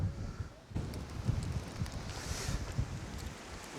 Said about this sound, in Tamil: காற்று ரொம்ப பலமாக அடிக்குங்க